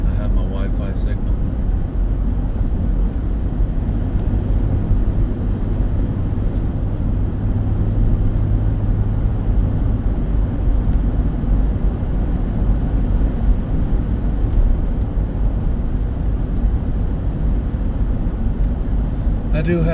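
Steady low engine and road rumble from a four-wheel-drive Chevrolet Trailblazer running in 2-wheel drive on the road, continuous and even from inside the cabin, with no talk.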